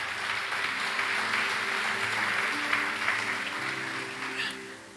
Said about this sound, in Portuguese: Quem pode aplaudir, irmão?